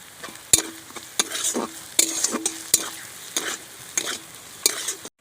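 Boiled lote fish mixture for fish chops stirred in a pan, with repeated sharp scrapes and knocks of a spatula against metal over a light sizzle, in an irregular rhythm with brief pauses between strokes.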